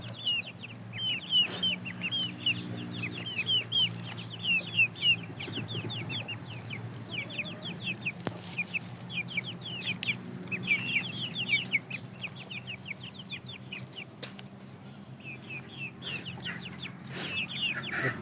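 Several Shamo and Indio Gigante chickens cluck and chatter continuously nearby outdoors, a busy steady flock sound with no voices.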